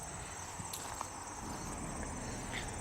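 Crickets chirp steadily in a backyard garden at night, a continuous high trill of many insects with faint scattered rustles underneath.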